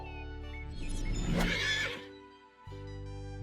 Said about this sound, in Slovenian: Konj.